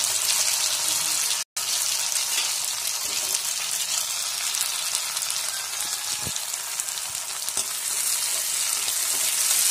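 Tomatoes frying in a pan for a pork kumbin dish, a steady close sizzle with occasional spatula taps and stirring, a brief dropout early on, no talk.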